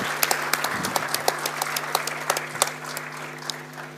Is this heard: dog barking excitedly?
no